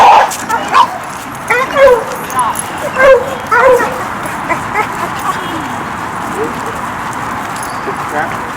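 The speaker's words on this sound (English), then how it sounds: "There's another dog." Dogs on a group pack walk in Chicago, one handled on a slip lead, give a few short yips and barks near the start, then fade under steady outdoor background noise while someone talks.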